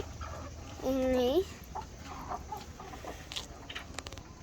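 Hens in a village poultry coop give one loud, drawn-out cluck close by, followed by quieter scattered clucks and rustling, with a faint voice in the background.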